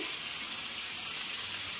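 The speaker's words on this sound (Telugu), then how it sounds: "ఒక్క చిటిక నీళ్ళు వేసుకోండి ఎక్కువ అవసరం లేదు బెల్లం కరగటం కోసం" Water poured from a cup into a pan of jaggery, a steady close splashing pour with a faint sizzle beneath, continuous and alone for under two seconds.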